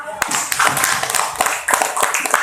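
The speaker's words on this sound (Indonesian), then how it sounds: "Tepuk tangan dulu buat Sabit." Children in a classroom mathematics lesson clap their hands, sharp uneven claps over a busy room, with voices talking and calling out underneath.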